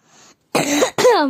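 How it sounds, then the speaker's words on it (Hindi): A brief soft cough followed by two harsher throat-clearing coughs, close and fairly loud, with no talking. "थोड़ी बहुत खासे आ रही है"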